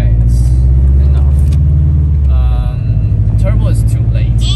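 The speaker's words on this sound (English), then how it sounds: "This is purely just the NA engine." A Subaru car's naturally aspirated engine runs at a steady idle with a loud, low rumble, continuous throughout, while people talk over it.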